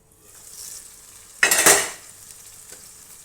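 Dried fish (karuvaadu) gravy sautéing on low heat in a pan, a soft steady sizzle with a louder burst of stirring and scraping in the middle before settling back to a gentle simmer.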